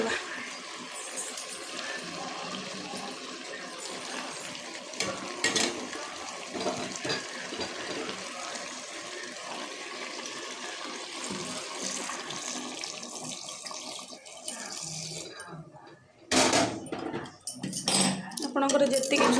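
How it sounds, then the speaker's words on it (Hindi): Water runs and splashes into a pot of chicken and potato curry, a steady rushing pour that continues for a long stretch before briefly stopping and resuming, with someone talking over it. "एबे हम ताको पानी दे दबा।"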